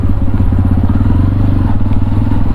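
A Tekken 250 motorcycle engine drones steadily up close while dropping from fourth to third gear, a loud continuous low rumble with a slight mechanical clatter and no clear revving peaks.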